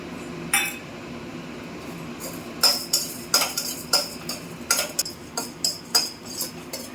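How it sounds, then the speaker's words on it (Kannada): Urad dal lentils roast in a pan while a utensil stirs them, giving a series of bright metallic clinks and scrapes that grow busier after a quiet start. "ನಂತರ ಸ್ವಲ್ಪ ಉದ್ದಿನ ಬೇಳೆನ ಹುರ್ಕೊಳ್ಳೋಣ"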